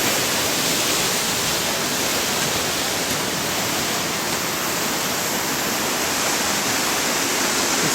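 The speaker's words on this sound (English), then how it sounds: "Walk around and give you a shot at the waterfall." Steady hiss of a waterfall at the Ashlu mines, a continuous broadband rush of falling water with no breaks or variation, heard alone.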